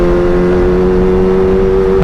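Motorcycle fitted with a Pro Speed Black Shark silencer-only exhaust, droning steadily at a held engine pitch while riding, loud and close throughout with no talk.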